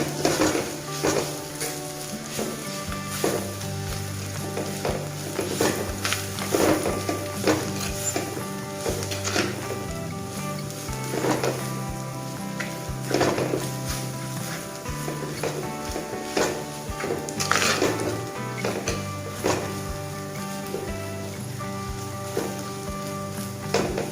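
Chili powder and spices stirred in a hot pan on low flame for Kerala-style chicken roast, steady sizzling with repeated scraping and clinking of a spoon against the pan, close and continuous.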